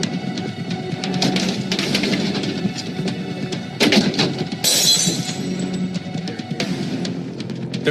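Repeated crashes of objects breaking and clattering, with glass shattering loudly midway, continuous chaotic banging and smashing up close.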